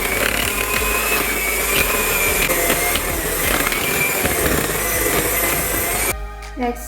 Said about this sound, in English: Then I'm slowly adding the dry mixture while mixing it.